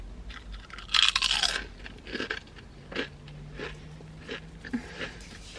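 Wavy Lays potato chips, a spicy Indian-style snack, crunched up close in loud bursts of chewing, strongest early on and then settling into softer, irregular bites and crackles.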